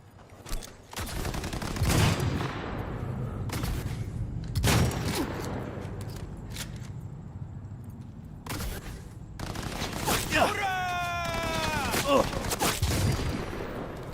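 Rapid bursts of video game gunfire ring out in several loud volleys, separated by short pauses. Quieter game sounds fill the gaps, and the shooting comes in close, sharp clusters.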